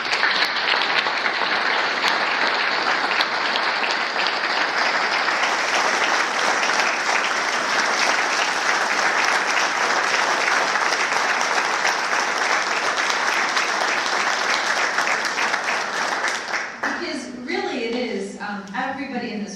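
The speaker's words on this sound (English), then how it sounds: "give them another huge round of applause" Sustained, loud applause from a large crowd fills the room for most of the time, then fades as a voice begins speaking.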